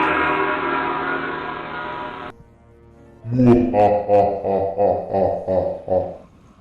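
Bell from the Haunted Hotel video game, a series of resonant rhythmic chimes ringing out loudly after a sustained droning tone and a brief lull, each strike decaying into the next.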